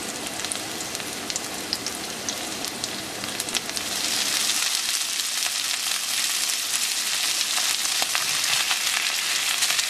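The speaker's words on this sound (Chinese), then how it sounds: "首先我哋燒啲油，然後咧將啲姜葱放落去" Chopped ginger and scallions stir-fry in hot oil as a steady, dense sizzle. The crackle grows louder and brighter partway through as the ingredients hit the pan.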